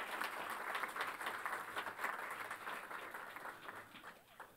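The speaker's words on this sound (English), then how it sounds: "may we have a big round of applause once again" An audience at a book release event applauds the Vice President of India, a sustained dense round of clapping from a large hall crowd that slowly tapers off.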